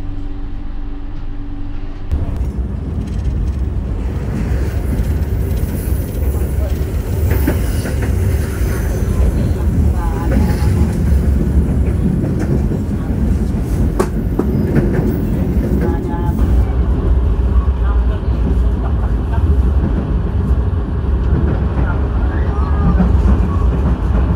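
A passenger train on the Jakarta–Yogyakarta line rumbles past on the rails with a loud, continuous low roar and rhythmic rattling, steady throughout the half-minute.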